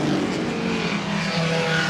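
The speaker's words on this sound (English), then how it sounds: "They've got the Kieft and the Lancia Ferrari, making lovely noises." Historic racing cars, a Kieft and a Lancia Ferrari V8, roar past at the Goodwood Revival with a dense, sustained, loud engine howl and no gaps.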